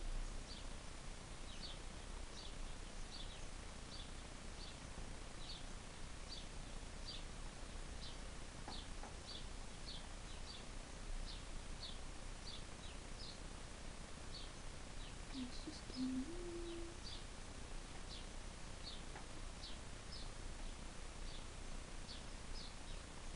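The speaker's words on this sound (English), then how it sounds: "we have some nice music from the birds today" Faint, repeated high chirps of small birds carry through steady outdoor background noise, with a brief lower call partway through.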